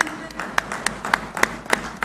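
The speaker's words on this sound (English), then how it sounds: "A huge round of applause, ladies and gentlemen." Sparse applause rises from the audience at the groundbreaking ceremony of Google Cloud's India AI Hub in Visakhapatnam, separate sharp claps spaced out in a thin, irregular pattern rather than a full ovation.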